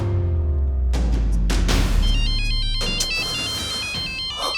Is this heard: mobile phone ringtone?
yes